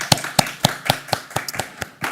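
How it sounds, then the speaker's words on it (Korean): A church congregation at a Korean sermon claps in a steady rhythm, roughly four claps a second, with each clap crisp and distinct and no voices over them. "우리 하나님께 영광의 박수 올려드립니다"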